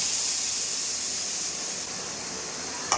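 Black urad dal batter poured into hot sesame oil for karuppu ulundhu kali gives a steady loud hiss and sizzle that eases slightly, with a brief clink near the end.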